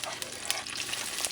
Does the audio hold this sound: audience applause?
no